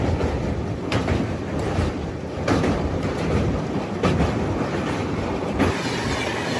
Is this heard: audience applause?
no